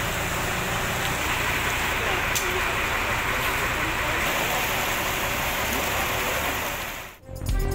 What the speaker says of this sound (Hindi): हरिपुर में मूसलाधार बारिश